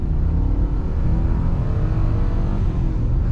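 A Lexus LS 400 sedan launches hard from a standstill, its wheels spinning briefly, the engine holding a loud, steady rumble close by throughout with no voices.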